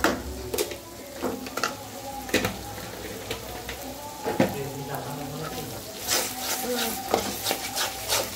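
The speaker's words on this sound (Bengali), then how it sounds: "এই যে এখন আমি কষাই নিচ্ছি।" Spice paste for chicken curry being sautéed and stirred in a pan: a soft continuous sizzle under irregular scraping strokes of a spoon against the pan, fairly close.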